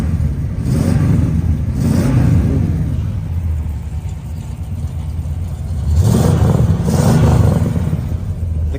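A restored one-of-a-kind custom truck built from recycled parts revs its engine nearby, loud rumbling swells rising twice over a steady idle, with no talk.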